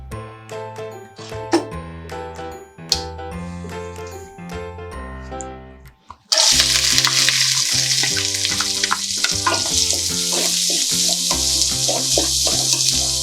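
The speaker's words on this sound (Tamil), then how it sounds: "வெங்காயம் நல்லா வதங்கட்டும்." Onions sauté with curry leaves and a dried red chilli in a pan after mustard seeds have popped, making a loud, dense sizzle. It starts partway through and continues under background music that plays throughout.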